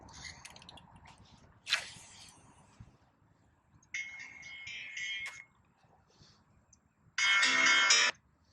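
A phone alarm on a fishing outing rings in short electronic bursts, three separated tones across the stretch with the last the loudest and longest, over faint outdoor background.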